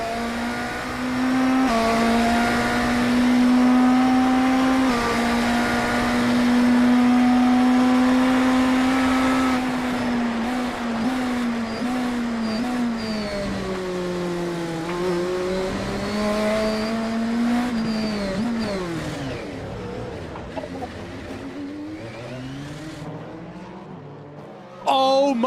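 Race cars in the IMSA Esports Global Championship, a racing video game, run in the wet on the Long Beach street circuit, engines droning and shifting pitch steadily throughout with a continuous close roar.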